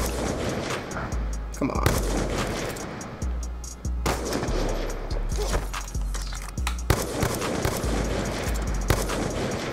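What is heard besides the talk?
gunshots in Black Ops 2 video game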